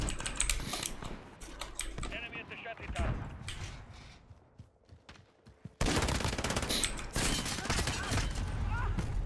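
Bursts of rapid gunfire in Call of Duty Modern Warfare, dense and loud, crackling in clusters with a louder sustained stretch toward the end, mixed with game sounds and a player's voice.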